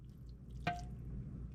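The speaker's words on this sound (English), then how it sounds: "Gonna add some water." A single short splash of water added to a pan while cooking a cheap, simple meal, heard once near the middle against a quiet kitchen background.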